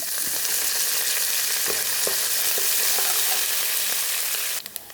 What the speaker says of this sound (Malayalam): എണ്ണ ചൂടായിട്ടുണ്ട്, കടുക് ഇടുവാണ്. കടുകെല്ലാം പൊട്ടിട്ടുണ്ട്.